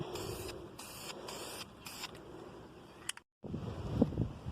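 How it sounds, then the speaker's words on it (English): Aerosol spray paint is applied to a Chevrolet S10 truck grille in several short, close hissing bursts, followed by a brief silence and some handling noise. "now that I've got a couple of coats sprayed"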